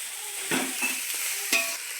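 Finely sliced cabbage being stirred in a hot pan for chicken fried rice, a few quick scraping strokes over a soft, faint sizzle.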